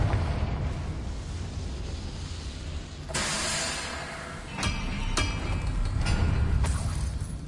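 The Confringo explosive spell in Hogwarts Legacy goes off in a few sharp blasts with crackling bursts over a constant low rumble, loud and close, with no talk.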